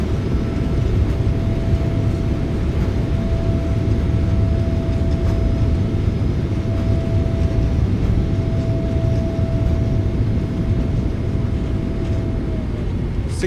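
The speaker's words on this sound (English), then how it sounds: "nose down gently, reversers are out" Thrust reversers of a PMDG 777-300ER landing in a flight simulator game: a loud, steady engine roar fills the whole span with a faint whine above it, easing slightly near the end.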